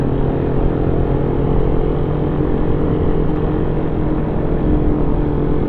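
A Kawasaki Ninja 1000cc motorcycle engine gives a continuous, steady, fairly loud droning rumble with no clear revs or breaks.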